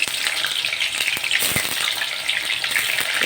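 Bitter gourd pieces deep frying in hot oil for kakarakaya vellulli karam, a loud, dense, bubbling crackle heard close and steady throughout the short stretch, with no talking.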